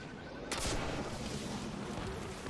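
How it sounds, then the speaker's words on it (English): Rocket launcher fired at a boss in the video game Destiny 2, with one sudden sharp blast followed by a rumbling tail of explosion and gunfire-like crackle. "I'm going to go ahead and shoot 2 more rockets at the boss here"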